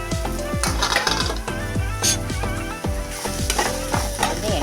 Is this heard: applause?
no